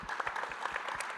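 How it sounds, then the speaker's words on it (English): A brief burst of applause, many hands clapping in a dense, steady patter. "So a big round of applause for all of you."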